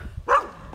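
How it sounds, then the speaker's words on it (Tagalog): A single short dog bark rings out at moderate distance, clear and brief, over a quiet low background hum. "Ayun yung aso."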